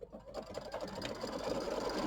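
A computerized quilting sewing machine stitches lettering along a quilt border, a steady fast mechanical whirr with rapid needle ticking that starts up and runs continuously close by.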